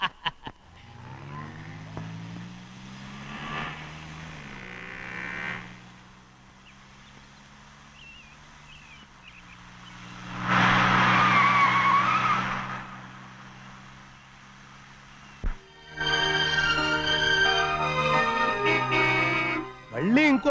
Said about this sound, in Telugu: మళ్ళీ ఇంకో కారా?